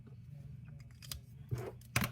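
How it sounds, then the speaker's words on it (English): Someone writes out an equation by hand for a gas-volume problem: a few short, scratchy strokes at close range, with the last two the loudest, over a low, steady hum. "So I'm going to write down my equation."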